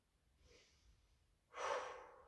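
Breathing during a yoga hip stretch: a soft, faint inhale, then a louder, airy exhale through the mouth that trails off slowly, close and alone.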